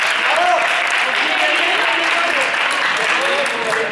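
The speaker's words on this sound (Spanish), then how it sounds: "Un aplauso al equipo 4." Applause for team 4 in a room of children: dense, continuous clapping close by and loud throughout, with voices and shouts mixed in.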